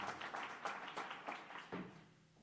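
Applause at a community awards event in Watertown, South Dakota, sounding as a moderate scattering of hand claps from a small audience that gradually thins and fades over a couple of seconds.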